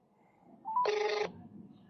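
A single telephone ring tone sounds while a call is being placed, one short electronic burst preceded by a faint rising tone, clear and close, with no talking over it.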